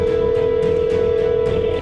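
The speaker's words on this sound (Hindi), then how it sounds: "शॉन फिर से बाबा को फोन लगाने की कोशिश करता है।" A cartoon telephone call rings out as a steady electronic tone, one continuous pitch held nearly two seconds, loud and close with a faint pulsing texture underneath.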